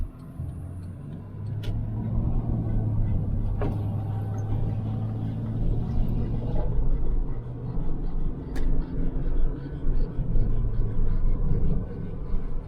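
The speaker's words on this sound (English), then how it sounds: "take her on a test drive" A cheap, old $300 clunker car drives on a test drive, its engine droning in a steady low rumble that rises and falls slightly as it moves, with a few faint clicks and knocks over the road noise.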